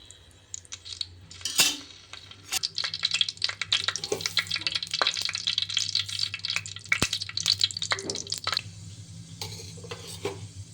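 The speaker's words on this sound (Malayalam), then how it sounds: "മീൻചട്ടി ചൂടായി വരുമ്പോൾ നമ്മൾ വെളിച്ചെണ്ണ ഒഴിച്ചു കൊടുത്ത് 1/2 ടേബിൾ സ്പൂൺ ഉലുവ മൂപ്പിച്ചെടുക്കണം." Fenugreek seeds frying in coconut oil in a heated clay fish pot, giving a steady crackle and sizzle with scattered sharp pops and the scrape and clink of a stirring spoon, close by and without talk.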